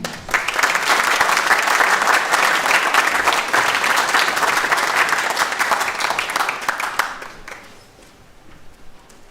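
A graduation audience applauds students, a loud, dense wash of clapping from a large crowd that holds steady for most of the stretch, then fades away.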